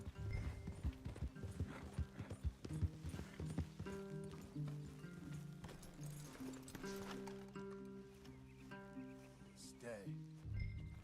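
Horses in Red Dead Redemption 2 clip-clop with a brisk hoof rhythm that slows and settles, with an occasional snort, under game dialogue and background music.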